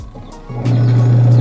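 A faulty humming washing machine motor spins up and settles into a loud, steady low hum that continues to the end.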